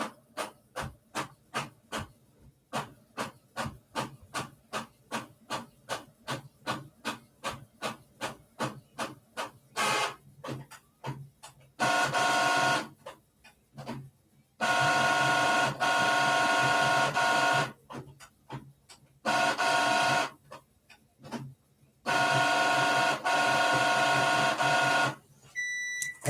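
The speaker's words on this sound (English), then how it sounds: "Sorry, y'all, my printer's kind of loud." A loud home printer works through a job: a fast run of evenly spaced mechanical clicks and ticks, then long steady whirring passes broken by short pauses as the paper feeds, heard alone with no talking.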